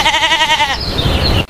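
Goats and sheep bleat close by, one loud wavering bleat followed by a rougher, lower trailing call, alone without talk.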